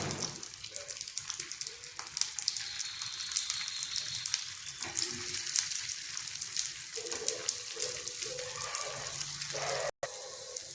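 Snack balls frying in hot oil over a medium flame, a steady dense sizzle and bubbling hiss throughout with occasional crackles and faint clatter, close and continuous.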